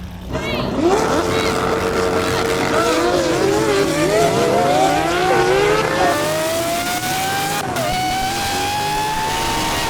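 Cars launch in a quarter-mile drag race in Driving Empire, their engines loud and close, revving high and climbing through rising gear pitches, with wheel spin and a gear shift as they pull away.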